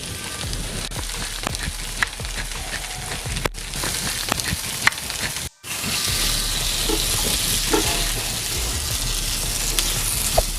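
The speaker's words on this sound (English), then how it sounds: "I'm gonna add a little black pepper to help these onions get nicely caramelized" Onions sizzle and crackle steadily in a pan with a little black pepper, caramelizing for a vegan pecan burger; a continuous broadband frying hiss with occasional clicks and a brief gap midway.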